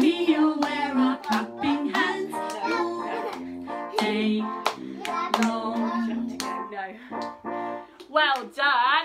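Children clap their hands in a steady rhythm along to a sung action song about clapping hands, the claps mixed in under continuous singing voices.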